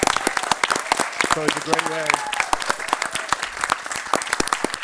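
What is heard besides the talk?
audience applause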